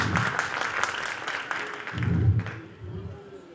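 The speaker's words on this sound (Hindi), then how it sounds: "एक बार जोरदार तालियां बजाएं मधुलिका जी के लिए" A music show audience applauds a singer in a continuous wash of clapping that fades toward the end, with a voice and crowd murmur mixed in underneath.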